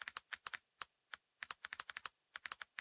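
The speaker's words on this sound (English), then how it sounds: "It has Minecraft sound effects in the browser for opening and closing tabs, and just listen when I type out a great URL." Irregular bursts of keyboard typing, each keystroke sharp and close, clustered in quick runs with short pauses; the keys trigger Minecraft-style sound effects in a web browser.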